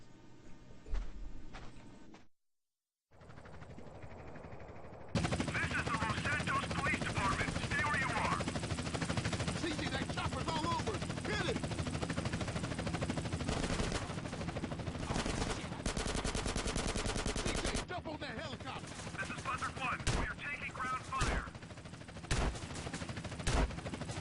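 Rapid bursts of gunfire in Grand Theft Auto: San Andreas rattle almost continuously, with a helicopter's thrum beneath and a voice talking over the action.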